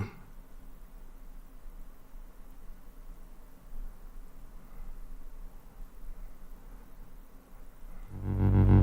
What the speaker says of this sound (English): The sound you hear emanating from your speakers, that low, ominous tone,